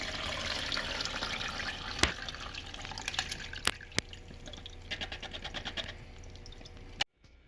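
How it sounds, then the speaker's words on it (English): Separated whey and curds from homemade cheese poured through a small strainer: a soft, steady trickle of liquid with scattered drips and a few sharp clinks, fairly quiet and close, ending suddenly. "now we are going to pour the separated whey and curds through this little strainer."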